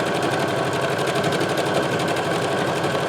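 A sewing machine stitches fabric with a fast, steady mechanical whirr and rapid needle chatter, continuous and close, with no talk.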